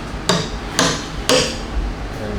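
Three sharp hammer blows on a whiskey barrel, evenly spaced about half a second apart, loud and close, with a slight ring after each strike.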